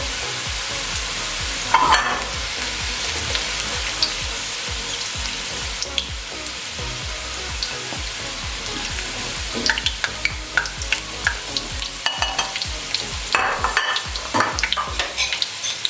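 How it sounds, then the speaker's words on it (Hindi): Onions frying golden in a pot for degi-style masala biryani: a steady hiss of hot oil with occasional scrapes and clinks of stirring, close and moderately loud, with no talk. "प्याज हमारा गोल्डन फ्राई हो गया।"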